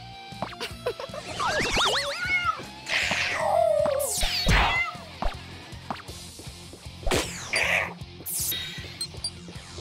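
Cartoonish cat meows and yowls from the muscle-cat game KinnikuNeko: Super Muscle Cat, with wavering pitched cries over a busy bed of game music, clinks and thwacking hits, loud and close throughout.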